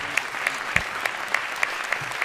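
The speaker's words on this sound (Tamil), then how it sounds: "நமக்கு பண்ணி கொடுத்த நம்ம மௌனராக முரளிக்கு உங்கள் கரகோஷத்தோடு எங்கள் நன்றியை தெரிவித்துக் கொள்கிறோம்." An audience applauds steadily at a golden jubilee celebration event, a dense, even patter of many hands clapping close by and filling the whole moment, with a faint voice underneath.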